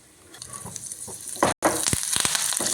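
Spices tempering in hot oil in a pan for Mysore rasam, a steady frying sizzle with crackling pops, close and loud, broken by one brief silent gap.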